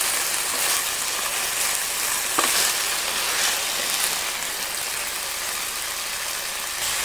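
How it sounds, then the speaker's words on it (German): Broccoli frying in a pan on a Bushbox XL camping stove gives a steady, even hiss that runs the whole time with no break. "ich brate das ein bisschen an"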